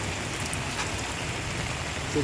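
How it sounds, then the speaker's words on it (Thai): Steady rain falls on a camping tent, a dense, even patter that fills the whole moment with no pauses, close and moderately loud. "ตอนนี้ฝนเริ่มซาแล้ว"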